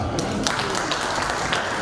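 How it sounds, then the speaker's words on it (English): A conference audience applauds panel discussion speakers, with steady, dense clapping filling the room at close range, briefly sustained. "Please, a big round of applause for them"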